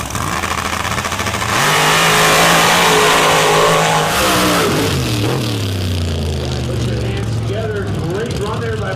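Drag race cars with 706 and 872 cubic inch engines, one a Rear and Morrison power plant, at a Show Me State Outlaws MRA championship round: a loud, sustained engine roar with a rising, shifting pitch, heavy throughout the clip.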